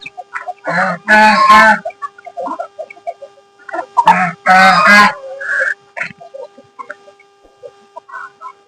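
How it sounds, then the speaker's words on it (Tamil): Hens cluck and squawk in a few loud bursts close by in a farm pen, with quieter clucking and scratching between them. "நம்ம கோழி எல்லாமே உள்ள மேய்ஞ்சிருக்கு"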